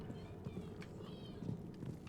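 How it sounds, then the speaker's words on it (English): Footsteps in Rainbow Six Extraction, a series of soft, rhythmic thuds spread across a short stretch of game ambience, moderately close and fairly quiet. "Oh, footsteps."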